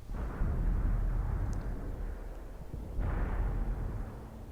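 Tank cannon fire in World of Tanks, a heavy, booming blast with a rumbling tail, followed by a second deep thud about three seconds later, loud and close.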